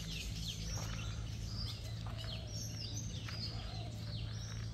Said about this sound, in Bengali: কত পাখির ডাক, আমাদের ওখানে এখন আর শোনাই যায় না